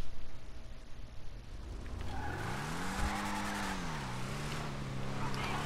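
Chevrolet Camaro engine in GTA, starting low and then climbing into a rising, wavering rev with tire squeal over steady background noise, loud and close, with no voices.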